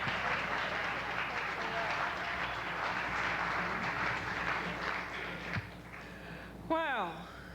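Sustained applause from an audience welcoming a teacher, dense and steady clapping with crowd noise that fades out near the end, followed by a brief voice.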